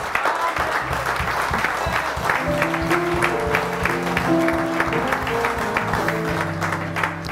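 Congregation at a church service bursts into sustained applause and clapping, steady and dense throughout, with organ or keyboard chords sounding underneath.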